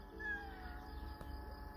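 A hungry kitten wanting meat lets out a thin, drawn-out meow, fairly faint and close, over a steady low background hum.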